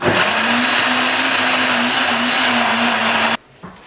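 Blender whirring steadily at high speed while a green smoothie mixes, loud and close, running for about three seconds before cutting off abruptly, followed by a brief soft clatter.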